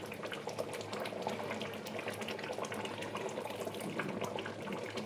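Covered pot of mutton curry simmering on the stove, a steady bubbling boil with dense, continuous liquid burbling and no talk, held at an even level throughout.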